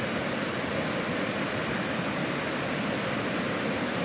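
Clear village river water flowing, a constant broad rushing wash at even level for the whole stretch, with no voices.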